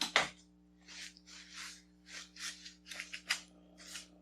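Repeated short hissing spritzes from a trigger spray bottle of Simple Green Pro HD onto a paper towel, about eight bursts in quick irregular succession, close by over a low electrical hum.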